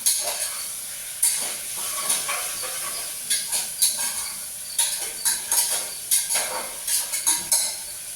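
Carrots sautéing in a pan for vegetable rice, a steady hiss of frying broken by repeated scraping and clinking strokes of a spatula stirring, close and fairly loud with no talk.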